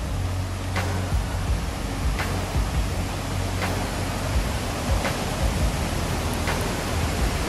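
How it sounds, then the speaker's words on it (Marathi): Loud, steady roar of water cascading down a stepped rock staircase in a natural setting, a dense broadband wash that continues unbroken throughout, with faint periodic clicks. "पाण्याचा प्रचंड आवाज येतोय"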